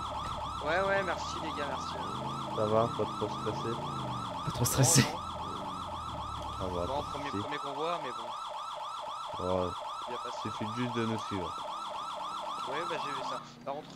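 An ambulance siren wails in steady repeating cycles in the video game GTA 5, running continuously and fairly loud under a man's French chatter.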